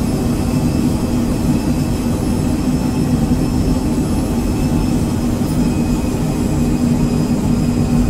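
An Embraer Phenom 100 business jet on an RNAV approach into Key West in a flight simulator gives a steady, loud, unbroken engine drone and airflow roar with a constant low hum and faint high whine.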